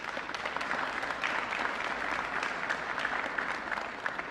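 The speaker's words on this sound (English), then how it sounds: "Give them a round of applause." A crowd applauds East St. Louis police officers at a press event, steady sustained clapping of many hands at moderate distance.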